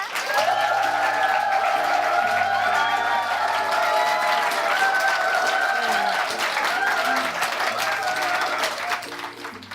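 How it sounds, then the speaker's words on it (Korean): Audience applause greeting a musical actress as she is welcomed onto a stage, dense and loud throughout with steady sustained clapping under music. "여러분 박수로 맞이해 주세요."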